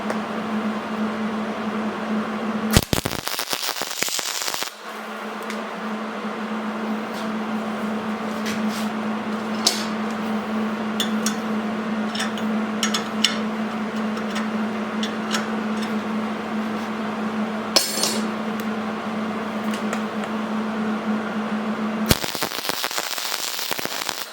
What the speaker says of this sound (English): Now we're going to weld the nut to this all thread bolt.